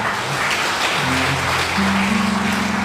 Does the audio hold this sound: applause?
yes